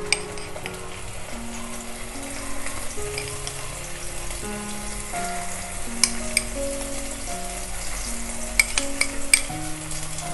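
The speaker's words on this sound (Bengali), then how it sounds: "এবারে তেলের মধ্যে দিয়ে দিচ্ছি আগে থেকে তৈরি করে রাখা সেই মশলার পেস্টটা।" Spice paste for an egg malai curry sizzles and spits steadily in hot oil in a home kitchen, a continuous loud frying hiss with occasional stirring clinks beneath a melodic instrumental backing.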